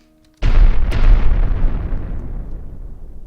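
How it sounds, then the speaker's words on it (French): A loud explosion in the Minecraft video game bursts in suddenly after a brief silence and rumbles on, slowly fading, with a second blast hitting about half a second after the first. "Je veux des explosions."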